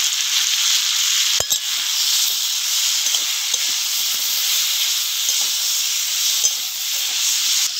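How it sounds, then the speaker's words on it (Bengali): Rupchanda fish curry masala with chili powder being sautéed in a pan, giving a continuous close hiss of frying, with a sharp clack near the start and light scraping stirs scattered throughout, no talk. "তরকারি যত ভালো করে কষে নিতে পারবো তত তরকারিটা ভালো খাইতে লাগবে"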